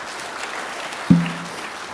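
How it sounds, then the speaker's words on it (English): Audience at a live comedy show clapping, a soft patter of applause with one sharp nearby thump, brief and fairly faint. "You didn't have to clap."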